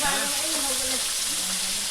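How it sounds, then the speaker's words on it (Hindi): Fish frying in a pan makes a loud, dense sizzle that fills the whole short clip, with faint voices or tonal sounds drifting in the background. "मछली फ्राई कर रहा है अभी, आप लोग देख सकते हैं।"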